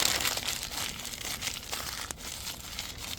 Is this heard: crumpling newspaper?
yes